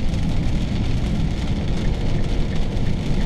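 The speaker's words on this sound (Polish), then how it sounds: "Pada deszczyk, pada, mam nadzieję, że wyjedziemy z tej góry i przestanie padać." Light rain patters steadily on a truck on a mountain road, a dense continuous hiss with a low rumble beneath, alone with no voices.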